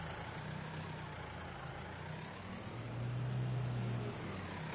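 A tractor in Farming Simulator 22 backs around a tight corner, its engine a low continuous drone that rises slightly partway through, with no talk.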